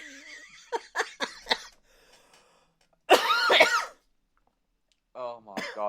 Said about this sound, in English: That's why I coughed my guts up.